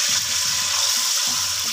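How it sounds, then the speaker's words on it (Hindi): Water is poured little by little into whole spices fried in a pot on low heat for dhaba-style dal chawal, giving a loud, steady sizzle and hiss with soft bubbling pulses and no talk. "तो थोड़ा थोड़ा करके पानी एहतियात के साथ शामिल करते जाएंगे।"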